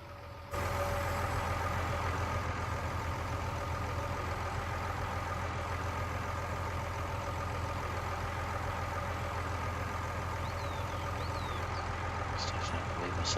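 A tractor with a sprayer idles in a farming video game, giving a steady low engine rumble with constant droning tones, close and unbroken for the whole stretch, with faint beeps near the end.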